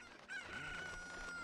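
A rooster crows once in the video game Ocarina of Time, a clear, close cock-a-doodle-doo with a rising then long sustained tone, heard alone without talk.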